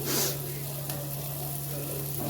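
Coriander powder masala frying in a pan for egg curry makes a soft, steady sizzle, fairly quiet and continuous, with a brief brighter hiss at the start.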